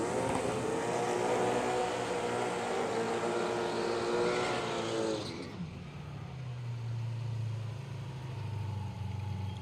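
A Holden Commodore and a Torana launch side by side in a drag race, loud engines roaring and revving hard at first, then fading to a lower, more distant drone as the cars pull away down the strip.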